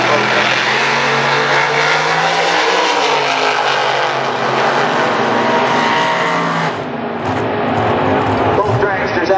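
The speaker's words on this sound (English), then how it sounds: "Both dragsters out of the gate in green" Two dragsters launch together at a drag race, a loud, sustained engine roar that fills the whole clip and drops briefly near the end, while an announcer talks over it.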